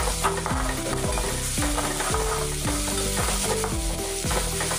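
Onions frying in oil with mustard seeds, cumin and asafoetida, stirred with a spoon: loud steady sizzling with regular scraping strokes against the pan, no voices.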